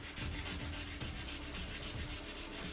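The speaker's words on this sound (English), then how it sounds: "Now I'll start wet sanding the headlights." Steady, rhythmic scrubbing of 1500 grit sandpaper wet sanding a car headlight lens in even strokes, continuous and close with a hissy, gritty texture and no talking.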